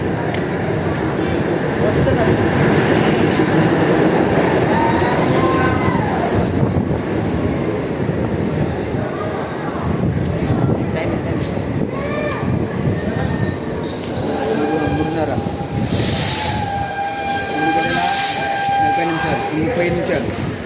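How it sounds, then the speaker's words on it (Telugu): A DEMU passenger train from Kacheguda to Raichur pulls into Makthal Junction with loud, screeching wheel squeals and rumbling carriages that gradually ease as it comes to a stop nearby. "రాయచూరు వెళ్ళవలసిన ట్రైన్ మక్తల్ జంక్షన్కు వచ్చి ఆగి ఉన్నది"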